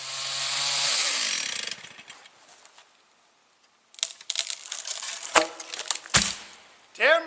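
A chainsaw cuts a storm-damaged tree log: a loud, high engine whine bogs down and fades out, followed by sharp cracking and thuds of wood breaking and falling.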